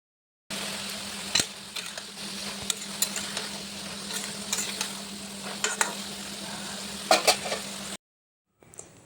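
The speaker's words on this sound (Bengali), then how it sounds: "পাঁপড় ভেজে সবজিটা বসিয়ে দিলাম।" Vegetables cook in a pan over a stove after papad was fried in it, making a steady continuous sizzle with occasional sharp clicks of stirring, close and even, cutting off abruptly near the end.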